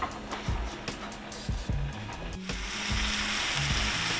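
Bread toasting in a hot pan for a hot ham and cheese sandwich gives off a steady close sizzle, with a few soft thumps and clinks from handling, and no voice over it.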